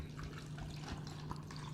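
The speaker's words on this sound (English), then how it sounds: "we're going to just pour it up real quick" American Honey liqueur poured from an already opened bottle into a glass, a faint, continuous trickle and splash of liquid with low background hum.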